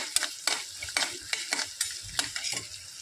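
Upma mixture with salt and a little sugar being stirred in a pan, a utensil scraping in quick, regular strokes about every half second over a faint sizzle, close and fairly soft with no talking.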